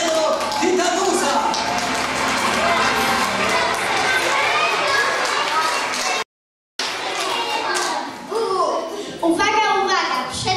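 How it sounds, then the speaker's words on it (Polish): A circus audience, children among them, cheers and applauds a strongman in a dense, loud, continuous wave of noise that drops out briefly and then resumes. "Brawa dla mocarnego Tytanusa!"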